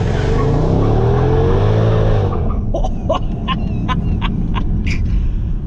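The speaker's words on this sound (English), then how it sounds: "so we're going to warm the tires up now." A Mercedes CLS55 AMG revs hard while warming its tires with traction control off, giving a loud, close, continuous engine roar with a rising whine that gives way to rough rumbling and sharp squeaks.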